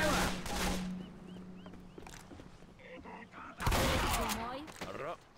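Several sharp synthetic gunshots crack in quick succession in Left 4 Dead 2, loud and close, with a low steady hum underneath and a brief burst of clatter afterward.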